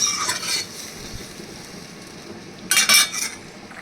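Fried fritters tumble into a pan of ash gourd simmering in a little water, giving a couple of close, bright clinks and scraping bursts at the start and end with a quiet bubbling lull between.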